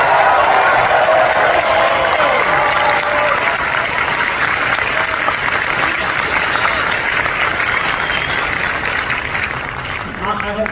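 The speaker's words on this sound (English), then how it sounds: "I need a thunderous applause for Peter Cullen." Loud, thunderous applause and some cheering from a large San Diego Comic-Con panel audience for a voice actor, opening with a voice over it and holding dense and steady before easing slightly near the end.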